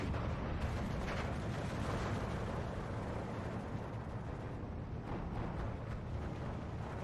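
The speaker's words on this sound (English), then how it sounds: "Very nicely placed grenade." Dense, rumbling blasts and artillery-like booms roll continuously in the World War II strategy game Steel Division 2, a grenade bursting amid a loud, sustained wall of battlefield noise.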